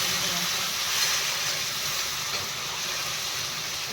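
Water added to a pan of cooking brinjal curry with chili and tomato gives a steady, even sizzling hiss that holds at constant loudness throughout, with no one talking.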